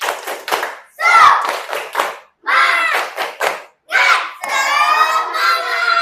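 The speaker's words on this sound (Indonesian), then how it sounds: "Coba tepuk semangat." A class of students performs a rhythmic spirit clap, crisp group claps in patterned bursts mixed with children chanting and shouting loudly, with short pauses between phrases.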